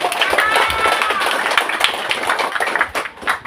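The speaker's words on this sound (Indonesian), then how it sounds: "Bisa tolong tepuk tangan sekalian." A crowd at a thanksgiving gathering applauds, with dense, busy clapping and some voices mixed in. It is loud and close, then thins into scattered claps near the end.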